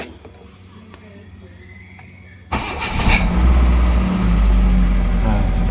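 A 2002 Kia Visto with an unstable idle speed is started: a quiet hum gives way to an abrupt engine start, then a loud, close idle that rises and wavers in level.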